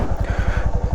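A loaded motorcycle engine runs close by with a rapid, regular low-frequency thumping pulse, loud and steady throughout, with no voices over it.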